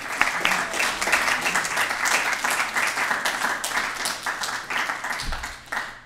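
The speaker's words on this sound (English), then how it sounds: "So let's give them both a round of applause" An audience at a high school student film festival claps in a moderately loud, uneven round of applause with distinct individual claps, tapering off gradually, with a brief low thump near the end.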